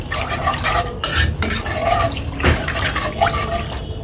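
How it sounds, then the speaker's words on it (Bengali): A milk mixture with raisins for creamy barfi is stirred in a pot, making loud, close, continuous liquid swishing with wet sloshes and occasional utensil scrapes. "তো বলক না আসা পর্যন্ত আমি এভাবে নাড়তে থাকবো"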